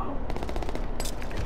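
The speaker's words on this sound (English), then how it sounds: "I'm getting shot up." Rapid machine gun fire in a video game crackles in a dense, continuous burst, loud and close, with a voice briefly heard beneath it.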